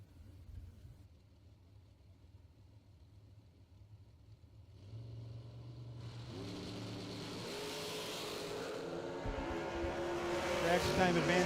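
An FTI dragster in a bracket drag race: its engine rises from a faint idle to a loud, building roar that swells steadily toward the end, with no talk over it.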